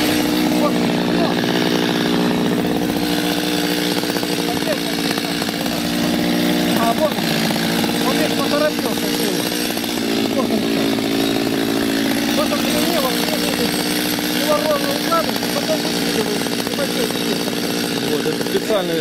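A chainsaw engine drones steadily and loudly while cutting firewood, its pitch wavering slightly, while people talk over the noise.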